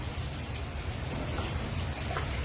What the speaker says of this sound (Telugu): ఈ చల్లని వాటర్ వేసుకోవడం వల్ల ఏమవుతుందంటే అంటుకోకుండా దేనికి దానికి గా వస్తుంది అనమాట